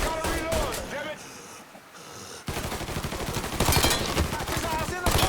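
Gunfire in the video game Mafia III, bursts of rapid automatic shots and single cracks that stop briefly before a heavy volley resumes, mixed with shouting voices.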